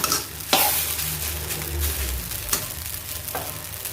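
Steady sizzling and crackling of rice vermicelli noodles stir-frying in a hot pan, with a few sharp scraping clatters as they are stirred, close up.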